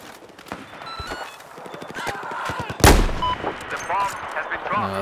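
Sniper gunfire in the video game Battlefield 4 during an Obliteration match, one loud sharp shot standing out against rapid distant battle pops and footsteps, with someone commentating over the action.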